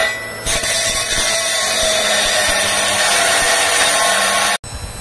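A mini jade saw cuts through very hard stone, giving a loud, continuous, high-pitched grinding whine that holds steady for several seconds before briefly cutting out near the end.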